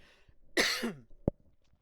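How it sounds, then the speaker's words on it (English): A single close, rough cough or throat clear bursts out in a quiet room, followed a moment later by a short sharp click. "Excuse me, got a cough."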